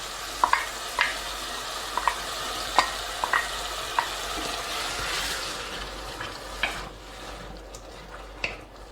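Canned diced tomatoes drop into softened onions frying in a pan, giving a steady sizzle broken by scattered sharp clinks and scrapes of stirring, close and alone with no voices.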